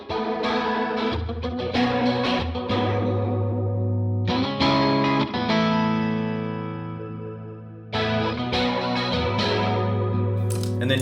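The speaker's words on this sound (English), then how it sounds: "The next snapshot brings in this gray flanger, and we get some sounds" Electric guitar through a gray flanger on an HX Stomp, strummed chords swelling with a sweeping, jet-like whoosh and ringing sustain, loud and alone, re-struck twice with a long decay between.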